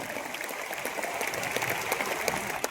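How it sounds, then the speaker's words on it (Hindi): Audience applause at an event honoring core leaders, a steady dense wash of clapping from a crowd sustained across the whole stretch, fairly distant, with no voices over it. "तो एक बार जोरदार ताली हमारे सम्मानित कोर लीडर्स के लिए"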